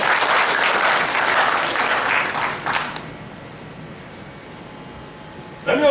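An audience at a banking and finance department event in Zaria, Nigeria gives a full round of applause for nearly three seconds, then it tapers off into quiet room noise.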